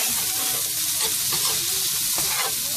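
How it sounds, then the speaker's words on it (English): Herbs sautéing in a lightly oiled pan just used for frying fish, a loud, even hiss of sizzling oil with faint crackles, close and unbroken, with no speech over it. "So I add my herbs here. I'm going to let them saute a little bit."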